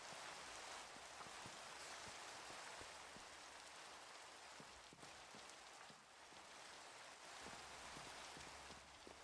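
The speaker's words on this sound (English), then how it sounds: "Need to stop raining." Steady rain falls in a video game, a dense, even hiss of drops with scattered small spatters, continuous and fairly loud throughout with no voices.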